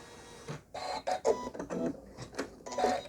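A Janome Memory Craft 15000 embroidery machine stitches a quilt design with King Tut thread. It makes short, irregular mechanical bursts of whirring and clacking, close and moderately loud, with no speech.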